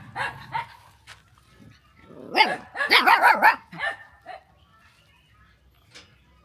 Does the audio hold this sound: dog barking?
yes